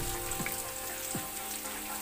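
Garlic sautéing in hot oil for chicken adobo, a steady close crackling sizzle throughout with a couple of brief spatter pops, no talking.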